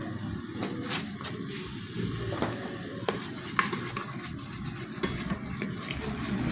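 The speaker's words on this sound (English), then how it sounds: "Keep frying." Goat meat sizzles and fries steadily in a pot, with occasional scraping and stirring sounds over the constant crackle.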